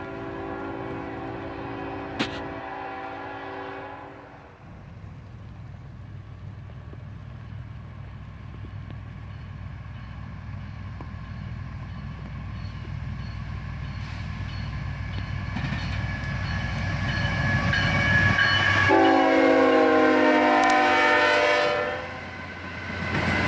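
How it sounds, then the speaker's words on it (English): Northbound autorack freight train led by two ET-44AH locomotives at track speed at dusk, a loud horn blast opening, then a long rising rumble and clatter of cars passing near, with a second horn sequence sounding late. "A pair of ET-44AHs leads an autorack train northbound at track speed."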